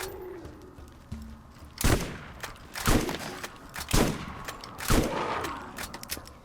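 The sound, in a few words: shotgun firing in Borderlands video game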